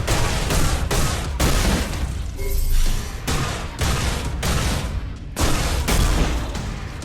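Repeated loud gunshots from a semi-automatic weapon in a video game, a droid firing in a sci-fi setting, sounding as a steady string of sharp broadband blasts close up with brief gaps between bursts.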